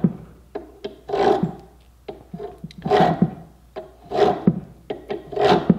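A thread chaser recuts damaged threads by hand, giving repeated rasping strokes about once a second, each a short gritty filing scrape of metal on metal, close and fairly loud with brief pauses between.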